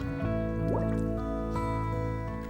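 Biscuit-fired faience pottery dipped into white glaze, with a soft steady liquid trickle and drip running continuously over a faint background hum, alone and close.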